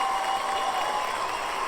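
A recorded crowd applause sound effect plays back as a steady, dense wash of clapping and faint cheering, even in level and unbroken.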